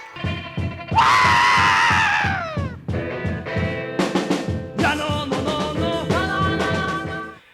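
A 1960s Peruvian rock song plays loudly: a long raw scream soars over a driving, dissonant band, followed by further shouted vocal bursts over the pounding rhythm.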